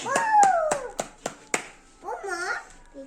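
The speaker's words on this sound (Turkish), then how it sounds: "Biz kazandık. Alkış." A few quick hand claps ring out amid excited, sing-song voices, followed by a short burst of cheerful vocalizing.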